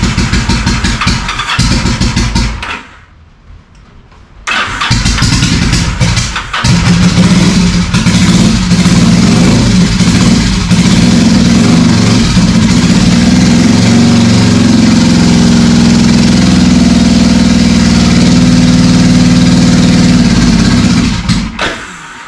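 A Yamaha V-Star 1100 motorcycle engine cranks, cuts out briefly, then catches and runs roughly, idling unevenly and revving loud and close for most of the stretch.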